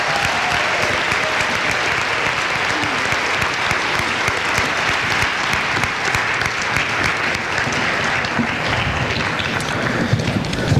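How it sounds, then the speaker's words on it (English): Dense, sustained applause from a large audience at a school letter and bar awards ceremony, a loud continuous wash of clapping that holds steady throughout with no voices. "Please give them a round of applause."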